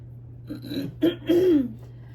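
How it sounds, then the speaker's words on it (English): A few short, guttural throat-clearing rasps close up, rising to a louder final grunt, with a steady low hum underneath. "I feel like I cannot clear my throat"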